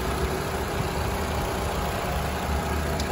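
The engine of a 2014 Toyota RAV4 Cruiser AWD idles smoothly and steadily up close, an even low hum with no knocks or rattles.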